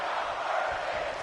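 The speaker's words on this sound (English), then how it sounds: "The crowd is chanting right now." A wrestling crowd chants in an arena, a dense, distant wash of massed voices swelling and holding for a moment.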